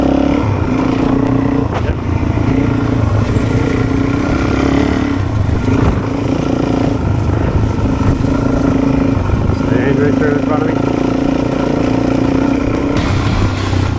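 Suzuki DRZ400 motorcycle riding the sandy freshwater track toward Tiwa Beach near Rainbow Beach, single-cylinder engine droning loud and close with shifting revs and wind buffeting throughout.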